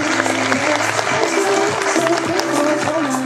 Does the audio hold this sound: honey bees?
no